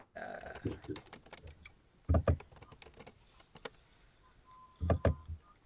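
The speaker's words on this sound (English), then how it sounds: "I'm gonna type this in. See if I can type it." Rapid clicking keystrokes on a computer keyboard typing out a trivia question, coming in irregular bursts with heavier thumps, close and fairly loud, with faint room noise between.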